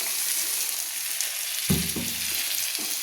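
Potol chingri (pointed gourd with prawns) cooking in a pan after water is added, a steady sizzle with a spatula scraping and stirring through it in a brief burst, close and fairly loud.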